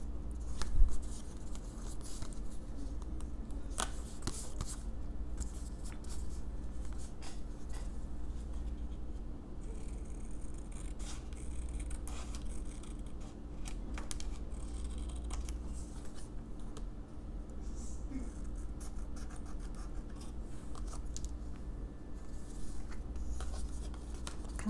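Album pages being cut by hand for a crafting memory album make faint, steady scratchy cutting and rustling sounds with small taps throughout, quiet and close, with no talking.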